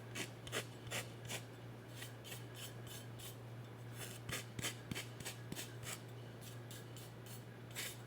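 A kitchen knife is sharpened on a thick sharpening stone, its blade rasping back and forth in a steady rhythm of close, gritty strokes over a constant low hum.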